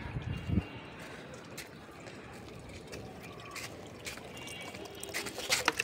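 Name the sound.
water poured from a bucket and mug onto rooftop garden plants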